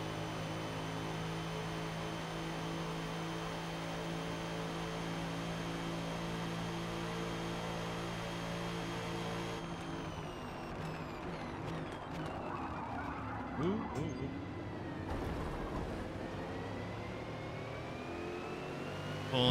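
A Lamborghini race car engine drones steadily in a Le Mans racing video game, a sustained mid-pitched tone with shifting revs and brief throttle changes partway through, continuous and fairly close.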